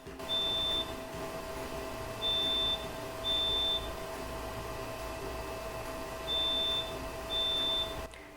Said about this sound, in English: when it expires, you'll hear an audible alarm